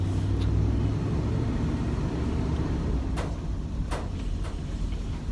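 A car driving to work on the road, heard from inside as a steady low rumble of engine and tires with a few faint clicks and rattles, no talking.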